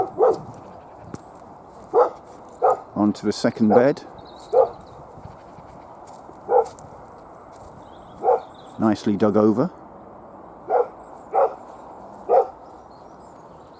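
A neighbour's dog barks in short separate bursts, some doubled, at a moderate distance in a garden allotment, while someone talks about the vegetable beds.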